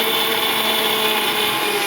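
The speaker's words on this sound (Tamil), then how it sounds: "நான் மிக்சியில் அரைச்சிட்டு வந்துடுறேன்" A mixer grinder whirs steadily as it grinds coconut, a loud, constant motorized roar with a faint tonal whine and no pauses.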